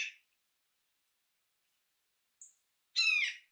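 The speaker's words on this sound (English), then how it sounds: "Jays have a huge range of vocalizations and are skilled mimics." A jay gives a few separate harsh calls with long silent gaps between them. The last call is the loudest, a raspy, buzzy squawk heard alone and fairly close.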